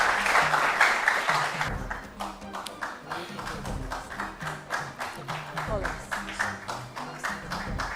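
Audience applause for school quiz teams: dense clapping at first, thinning into scattered, rhythmic individual claps with voices talking over them.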